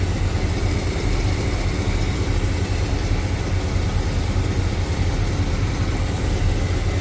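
A 1950 Ford Custom street rod's 350 V8 with a Quadrajet 4-barrel and HEI ignition idles smoothly, its steady low rumble constant and close throughout.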